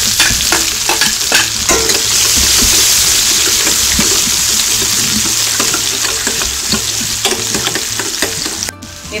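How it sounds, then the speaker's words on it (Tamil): Onion, urad dal, green chilli, curry leaves, ginger and carrot sautéing in hot oil with mustard seeds on low-medium heat, a loud steady sizzle broken by frequent scraping stir strokes, close and continuous with no talking. "இப்ப நம்ம இந்த பொருளை எல்லாம் வதக்கிடலாம்."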